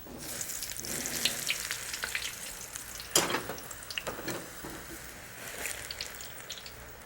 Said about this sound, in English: let's gently place the eggplant pieces in the ghee